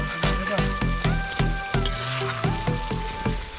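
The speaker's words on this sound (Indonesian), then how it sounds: "Terakhir kita masukkan ikan yang sudah digoreng, lalu aduk-aduk sebentar hingga bumbu tercampur merata pada setiap bagian ikan" Fried fish is stirred into red chili balado sambal in a hot pan, with oily sizzling and repeated scraping strokes of a spatula in a quick rhythm, close up, while background music plays with sustained tones.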